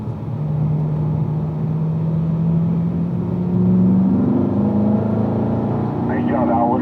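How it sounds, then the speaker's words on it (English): Car engine on a racing track, downshifting to third gear midway through a braking zone: a steady loud engine drone with shifting pitch bands throughout, a voice talking over it. "Make your way down to third, midway through our braking zone there."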